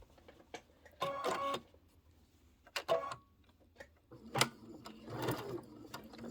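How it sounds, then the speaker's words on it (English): A sewing machine back stitches fabric for a Kimberbell Santa cinch sack, running in several short bursts with quiet pauses between them, close by and fairly soft. "I'm going to back stitch a little bit."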